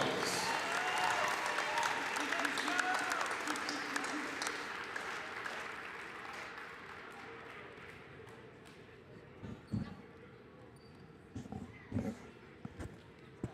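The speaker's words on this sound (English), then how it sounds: "Let's give them a grand golden tornado applause." Crowd applause in a high school gym honoring girls basketball seniors on senior night, loud at first and gradually thinning out into scattered claps, footsteps and murmurs.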